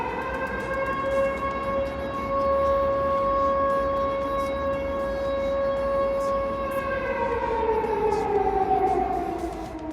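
A wartime air raid siren wails loudly and steadily, holding a sustained tone for several seconds before its pitch begins to fall away, with no voices.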